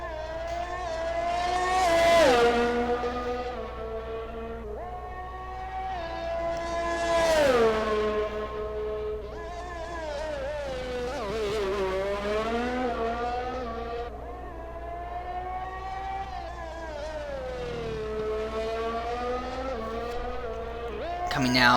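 Race cars lapping the Baku circuit in a racing video game, with engines repeatedly swelling and fading as they pass, heard beneath continuous commentary.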